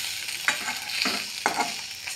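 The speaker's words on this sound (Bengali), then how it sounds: "এভাবে কিন্তু আপনারা মাছের ডিমের বড়া কিন্তু ভেজে নেবেন।" Fish roe fritters frying in a little oil in a kadai, with a steady sizzle and a few sharp spatula scrapes and stirring clatters spaced through the clip, alone with no talk.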